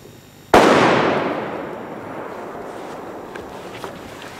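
A single loud, sharp bang from a brand-new Jorge FP5 firecracker on a wet day, close by, its echo fading slowly over a few seconds, with faint outdoor background noise after and no talking.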